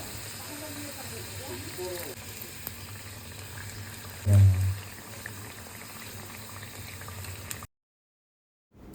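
Khaja dough for Puri-style khaja fries in hot refined oil in a wok, giving a continuous bubbling sizzle under a voice, with one brief louder burst midway before the sound cuts to silence.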